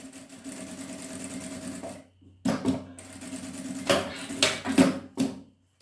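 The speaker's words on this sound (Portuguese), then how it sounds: "Antes de cortar, eu vou passar uma costura de segurança, tá?" A sewing machine runs a safety seam on fabric in bursts, its rapid mechanical stitching rattle close and clear, with a short pause and then several quick restarts.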